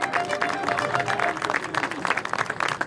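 Scattered clapping from a small gathering at a farmers' protest in Paris, heard as dense, uneven handclaps for about three seconds with a faint voice briefly audible at the start.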